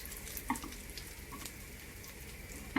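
Garlic fries in a pan with a soft, steady sizzle and faint crackle, with a few light clicks and small pops breaking up the quiet frying.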